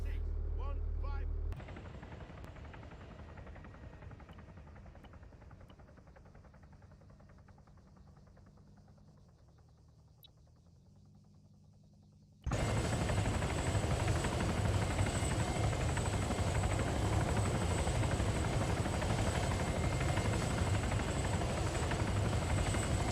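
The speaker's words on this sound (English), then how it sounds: "It's definitely my favorite helicopter in the game. Not the attack version, but the transport version." A transport helicopter in the video game Warlords Redux: a steady, droning rotor and engine noise, quieter at first, then suddenly loud and dense for the second half, with no speech over it.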